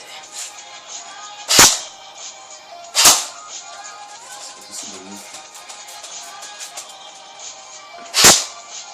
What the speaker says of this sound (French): je vous ai fait 3 petits tirs en semi